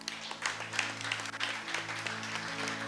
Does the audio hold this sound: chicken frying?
no